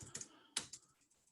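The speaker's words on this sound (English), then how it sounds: "Believe it or not, I am actually typing." Quiet clicks of fast typing on a computer keyboard during word processing, a few sharp keystrokes in quick bursts with brief pauses, close and faint.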